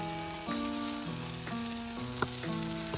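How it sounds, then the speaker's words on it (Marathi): Spices sautéing in hot oil in a pot for a rice dish cooked outdoors on a farm, a steady close sizzle with a few brief scrapes and clinks, no talking. "मसाला टाकलेला आहे तेल टाकलेलं आहे परतून घेतायत"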